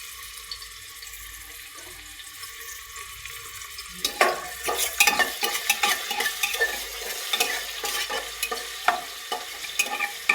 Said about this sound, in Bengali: তেলটা আমার গরম হয়েছে এখন দিয়ে দিব পেঁয়াজ